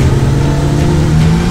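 A Kia Stinger's engine drones loud and close under acceleration, a brief, steady, throaty tone with no voices.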